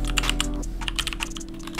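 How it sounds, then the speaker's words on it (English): Quick, uneven typing on a computer keyboard, a run of sharp close clicks over a steady low background hum. "My typing is not good."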